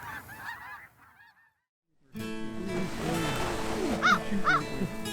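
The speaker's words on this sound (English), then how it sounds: "swarms of snow geese continually pass overhead" Snow geese fly overhead on the spring prairie. A few faint calls come first, then a short silence, then a loud, dense chorus of overlapping honks with several sharp nearby calls standing out.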